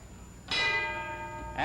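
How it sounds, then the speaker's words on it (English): A boxing ring bell clangs once, loud and ringing, to end a round in the Rocky Marciano versus Archie Moore fight, its bright tone sustaining over crowd noise before a second strike begins at the very end. "And there's the bell."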